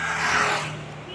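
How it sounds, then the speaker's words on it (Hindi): A vehicle rushes past on the highway near Haldaur in one loud, broad whoosh that swells and then fades. "वो सामने गाड़ी जा रही है वो देख रहे हैं आप"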